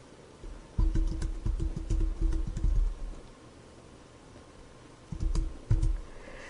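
A computer keyboard clicks as a short file name is typed, two quick bursts of close, soft keystrokes separated by a pause, with no voices.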